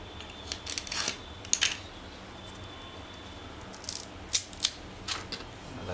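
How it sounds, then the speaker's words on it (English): Craft foam being cut away with a knife on a cabin trainer model airplane fuselage build, heard as a few faint scratchy, crisp scraping strokes near the start and again a few seconds later, with quiet background between. "Remove this foam. Just run the knife mildly."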